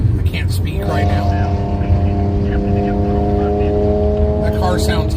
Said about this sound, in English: That car sounds horrible.